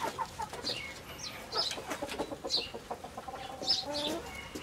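Hens and a rooster in a backyard flock cluck and call repeatedly, close and moderately loud, with overlapping chirps and clucks throughout and no talking.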